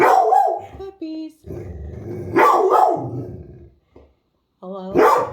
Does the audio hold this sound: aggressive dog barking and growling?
yes